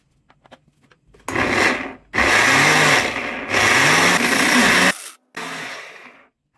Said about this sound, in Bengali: তারপর এটা ব্লেন্ড করে নিচ্ছি।